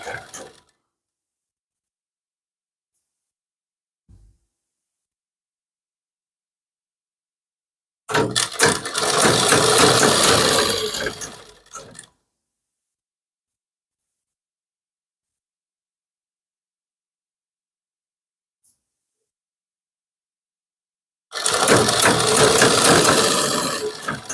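A sewing machine stitching the lining of a kurti runs in two loud, close bursts of several seconds each, separated by long silence.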